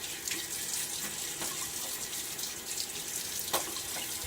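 Tap water runs steadily into a sink as a face is wetted with cool hard water before a wet shave, a continuous near splashing stream with a few brief splats.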